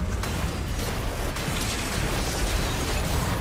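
Dense, continuous explosion noise from a Genshin Impact skill attack fills the mix, loud rumbling bursts and crackling layered over one another with no pause.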